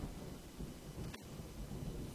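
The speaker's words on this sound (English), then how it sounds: "The rain gave me a terrible sense of foreboding, and it chilled me through my clothes." Steady rain pours throughout a scene in the horror game Home, with one brief low thunder crack near the middle; the rain holds an even, close hiss, and no voices are heard.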